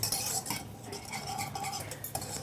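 Sesame sandesh is stirred continuously in a pan, giving a steady run of scraping and clinking of a utensil against the metal, close and fairly quiet, with no talk.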